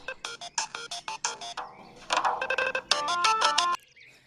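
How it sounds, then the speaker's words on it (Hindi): A mobile phone rings out a loud electronic melody of rapid repeated tones and short musical phrases, close and alone, then cuts off abruptly near the end. "तुम्हारा मोबाइल बज रहा है"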